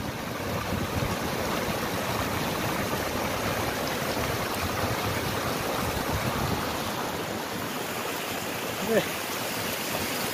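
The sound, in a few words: water flowing from stone spouts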